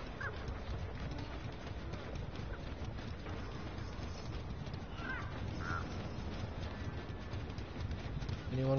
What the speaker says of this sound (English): When you hear the crows, but you don't see them anymore.